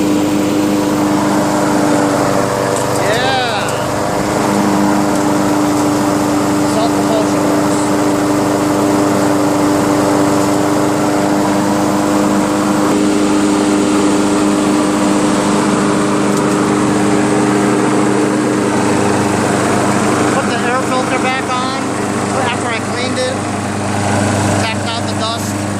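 A Craftsman 7.0 Platinum lawnmower with a Briggs & Stratton auto-choke engine runs steadily and loudly close by, a continuous droning hum with occasional small variations.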